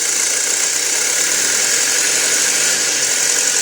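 A 2007 Audi A4 with the 2.0T engine idles roughly up close, a loud steady mechanical drone with a fine rapid ticking running through it and no voices.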